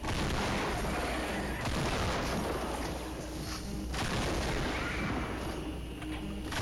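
Constant, dense gunfire and booming blasts from a video game shootout fill the whole stretch at loud, steady volume, with no pauses.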